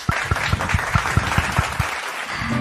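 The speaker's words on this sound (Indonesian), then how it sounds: "Boleh dong beri tepuk tangan yang meriah." An audience at an award ceremony claps in even, rhythmic beats over a bed of scattered applause, then the clapping fades out near the end.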